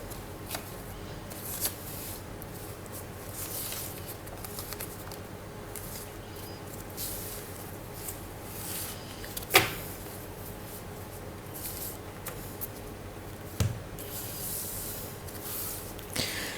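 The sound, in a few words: tarot cards being shuffled and drawn for a reading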